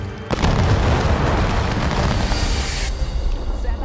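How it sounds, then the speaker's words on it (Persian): A film sound effect of a mass volley from 750 soldiers erupts in a sudden loud crack, then rolls on as a dense rumbling roar of gunfire and echo for a few seconds before cutting off. "750 سرباز شلیک کردن."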